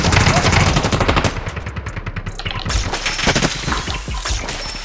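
Rapid gunfire in Ring of Elysium, with a loud burst of automatic shots followed by further rhythmic volleys of rifle fire, close and sharp against a busy game backdrop.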